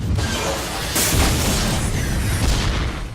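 Dense, roaring explosions in a racing video game rumble continuously, loud and close, with a sharper blast partway through and no voices.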